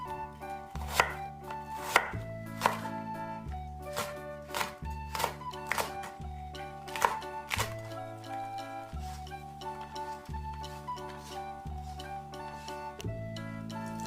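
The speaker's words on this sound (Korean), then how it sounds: "미역은 불려서 썰어주고 부추는 4에서 5cm 길이로 무는 나박썰기로 썰어줍니다." A knife chops briskly on a cutting board, cutting seaweed, chives and radish, crisp rhythmic knocks in quick bursts, heard close over light background music.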